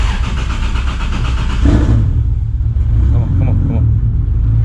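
A 2JZ engine in an S14 car cranks and catches, then settles into a loud, steady idle rumble close by, with someone speaking briefly over it.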